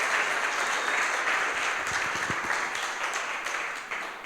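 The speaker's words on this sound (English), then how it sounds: "Again, another round of applause for" A room of people at a DAO community meetup gives a round of applause after a presentation. The clapping is dense and sustained and slowly tapers toward the end, with no speech.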